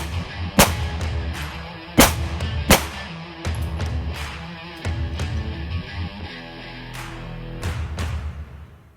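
Rounds fired into a BulletSafe soft body armor vest, center mass, ring out as loud, sharp gunshot cracks, several spaced irregularly across the span over a noisy outdoor background.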